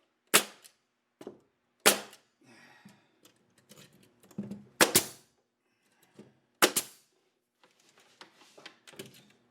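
A brad nailer fires nails into wood in a workshop, sharp loud pneumatic cracks spaced irregularly about every one to two seconds, with quieter handling clatter and knocks between shots.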